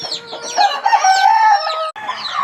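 Crossbred chickens and roosters at a poultry shop in Thanjavur, India cluck continuously and loudly at close range, with overlapping calls and a crow rising above the flock.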